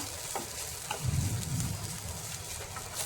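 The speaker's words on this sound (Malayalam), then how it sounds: "എന്നിട്ട് വഴറ്റി കൊടുക്കാം." Vegetables sautéed with salt in a pan make a soft, steady sizzle with light scraping stir sounds, close but fairly quiet, and no one speaks.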